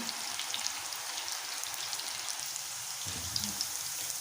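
Onion pakodi frying in hot oil, a continuous fine crackling sizzle with dense small pops, fairly quiet and close, with no talking.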